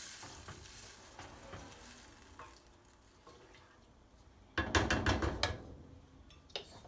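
Mexican red rice cooking in a pot with water gives a soft sizzle and bubbling, quiet at first, then a louder burst of frying hiss and stirring clatter near the end.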